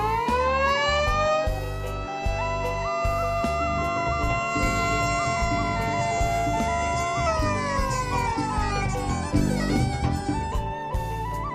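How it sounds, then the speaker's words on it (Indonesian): Siren sounded at a toll road inauguration ceremony, a loud sustained wailing tone rising and falling over the full length, with crowd noise and scattered background sounds underneath. "Mohon berkenan Bapak Presiden untuk melakukan prosesi dengan menekan tombol sirine"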